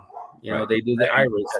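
Small dogs bark and yip close by in short bursts, overlapping with someone talking.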